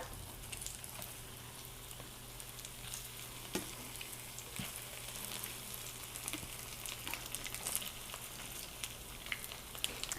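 Sweet plantains refry in a hot pan, giving a steady, soft sizzle and crackle of oil throughout, with occasional faint clicks and pops close by.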